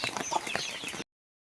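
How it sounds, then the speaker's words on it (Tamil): A few chickens cluck softly nearby in a short, faint burst of scattered clucks that stops abruptly into silence. "இன்னைக்கு கோழிங்கெல்லாம் என்ன பண்ணுது"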